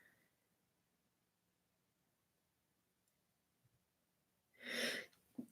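A single close sneeze bursts out after several seconds of near silence, loud and broadband, followed by a brief snort or sniff at the end.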